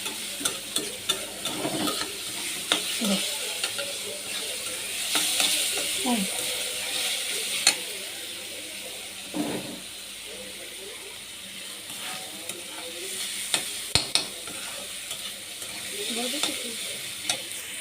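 Carrots and green chilies frying in a pan for vegetable rolls, a close hissing sizzle with intermittent utensil scrapes and taps, while a person talks over the cooking.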